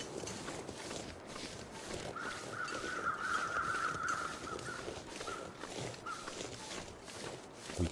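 Crows cawing in the snowy survival game The Long Dark, a few faint distant caws over soft crunching footsteps in a quiet outdoor setting.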